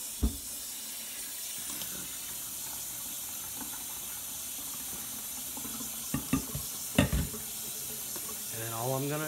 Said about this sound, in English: I'm going to get cold water going.